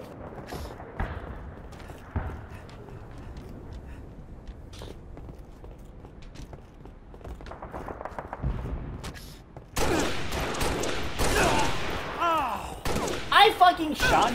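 Gunfire in the video game Halo comes as scattered thuds and shots under low game ambience, then a louder stretch of firing and impacts near the end, with a person speaking over the play.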